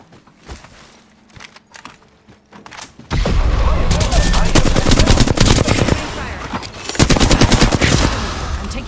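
Video game shooter gunfire striking the player, with quiet clicks and handling sounds first, then loud sustained automatic bursts of rapid shots that pause briefly and resume.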